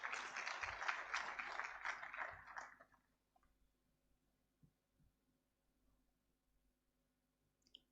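Applause at a university congregation ceremony in a conference centre, moderately loud clapping for about three seconds that quickly dies away into near silence with a few faint knocks.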